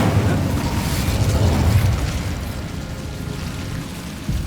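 An Incendio fire spell is cast in the Hogwarts Legacy video game: a loud, deep whooshing burst of flame that roars at first, then thins and fades, with a small pop near the end.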